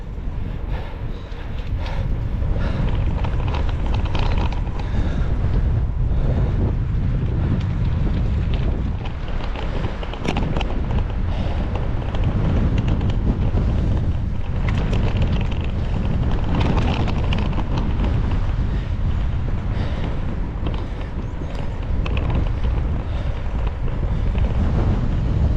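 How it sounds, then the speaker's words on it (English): Strong 20 mph headwind roaring across the microphone while cycling uphill on a commuter bike, a loud, constant broadband buffeting that runs unbroken throughout with no voices. "uphill into a 20-mile-an-hour headwind"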